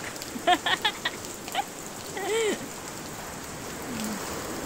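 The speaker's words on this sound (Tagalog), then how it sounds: "Lakas ang ulan, wala nang hangin, malakas na lang ang ulan." Heavy rain pours steadily around a shore-casting angler on the coast, with no wind, forming a constant wash of drops. A few brief clicks and knocks and a short rising voice sound break through near the start and middle.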